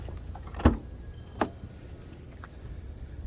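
The rear lift gate of a 2012 Dodge Grand Caravan is opened, giving two distinct clunks about a second apart from the latch releasing, followed by quiet background.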